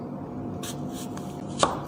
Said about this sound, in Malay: Kita potong macam ni